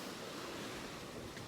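Ocean surf breaks right beside an old Spanish-built stone sea wall on a coastal road, a loud, continuous roar of waves mixed with wind buffeting the microphone.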